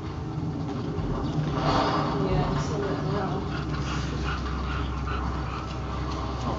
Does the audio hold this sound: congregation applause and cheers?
no